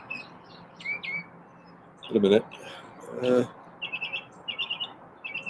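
A small bird sings and chirps from a tree, with short bright tweets at the start and a quick run of repeated chirps near the end, while a person talks briefly in between.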